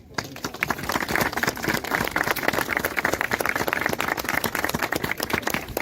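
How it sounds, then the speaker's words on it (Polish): Audience applause at the opening of a new tram route, a steady dense patter of many hands clapping close by, sustained without a break. "Bardzo bym prosił o brawa."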